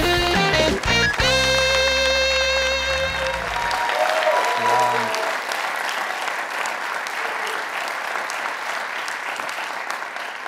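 A television studio audience applauds steadily for an arriving guest on an evening talk show, a dense sustained clapping that starts under a closing musical sting and carries on alone.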